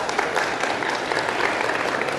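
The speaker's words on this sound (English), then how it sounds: "So big round of applause for Zach." Dense, steady applause from a conference audience fills the hall for a security talk speaker, a continuous close wash of many hands with no pauses.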